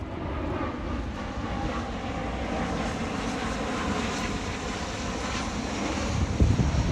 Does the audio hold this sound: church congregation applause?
no